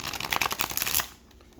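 A deck of black light tarot cards riffled quickly, a dense run of crisp papery flutters for about a second, then near silence.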